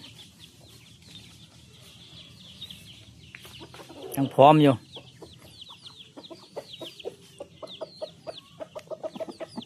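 Chickens cluck and chirp around a farmyard, with one loud squawking outburst midway and a short spoken phrase nearby.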